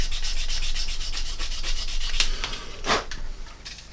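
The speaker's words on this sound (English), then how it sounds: "then we're going to come in with a polisher type. I'm going to wet it just a little bit" Wet polishing of a plastic part from a Revell 1/48 Tornado model kit, steady rapid back-and-forth rubbing strokes, close and loud, with a couple of sharper scrapes near the end and no talking.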